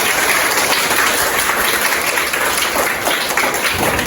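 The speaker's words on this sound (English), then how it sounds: "If you're excited to listen to our story, can you all please clap your hands?" Students in a senior high school audience clap their hands at a storytelling contest, a steady, dense wash of many hands sustained throughout, loud and close with no talk over it.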